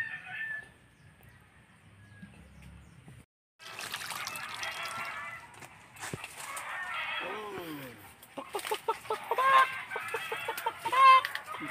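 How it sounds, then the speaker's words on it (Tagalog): Chickens cluck and squawk in bursts against a quiet background, with a rooster-like call and some scattered bird noises nearby. "Daming manok ko."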